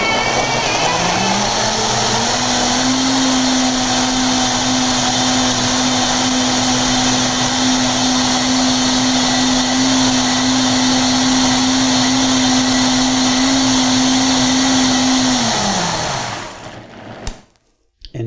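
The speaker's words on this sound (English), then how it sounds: "frozen bananas are no challenge for the Vitamix" A Vitamix blender whirs through frozen bananas, ramping up to a loud steady motor whine that holds for about twelve seconds before winding down to stop.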